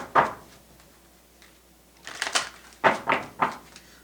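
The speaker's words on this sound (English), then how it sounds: "2 more shuffles." Tarot cards being shuffled by hand for a reading, heard as short crisp riffling bursts and soft snaps, a couple of brief flurries followed by three distinct slaps near the end, close and alone without speech.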